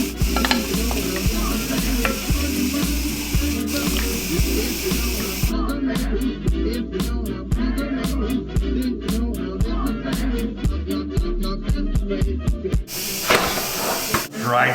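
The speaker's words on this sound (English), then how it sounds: "Shrimp, I'm gonna add the shrimp in here too." Shrimp with cabbage, carrots and green onions stir-fried in a pan, a loud continuous sizzle with repeated scraping and tapping of the utensil, and a voice heard over part of it.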